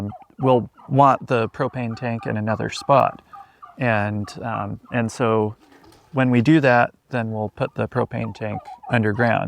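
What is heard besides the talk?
wild turkeys gobbling in the background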